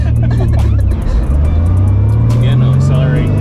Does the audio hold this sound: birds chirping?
no